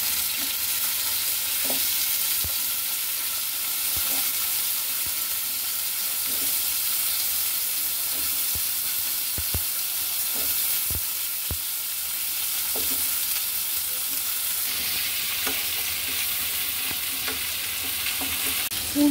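Sweet pumpkin pieces fry in a pan for a pumpkin and turkey fish dish, giving a steady close sizzle and hiss throughout, with occasional soft clicks and scrapes from stirring and no voices.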